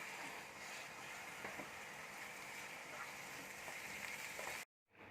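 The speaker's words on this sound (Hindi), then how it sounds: "बचा हुआ दूध डालकर इस मिश्रण को अच्छी तरह मिला लें" Semolina, ghee and mawa are stirred with milk in a pan, giving a soft, steady scraping and sizzling hiss with faint clicks of the spoon, cut off abruptly near the end.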